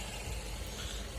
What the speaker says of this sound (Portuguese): O rapaz trouxe ela fazendo um barulho no motor.